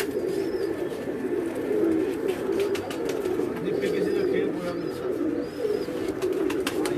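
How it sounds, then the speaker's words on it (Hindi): A champion pigeon coos in low, steady murmurs, close and continuous, with faint chirps from other birds in the background. "ये हमारा चैंपियन कबूतर है।"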